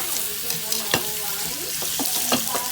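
Garlic rosemary potatoes frying in a pan, a continuous sizzle punctuated by several sharp scrapes and clinks of a utensil stirring, close and moderately loud.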